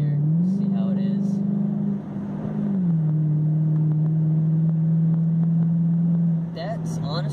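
A 2007 Chrysler 300 SRT8 pushed hard through corners, its engine droning steady and loud from inside the cabin, pitch rising and easing as it accelerates out of bends, with brief voices at the start and end.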